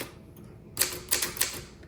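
A 1955 Underwood Ace manual typewriter after a short quiet pause, then three or four sharp, close keystrikes spaced unevenly.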